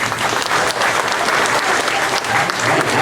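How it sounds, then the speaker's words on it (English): Loud, dense applause from a theater audience at a Disney Hollywood Studios stage show in Orlando, a steady wash of clapping that holds for several seconds. "Let's give a round of applause."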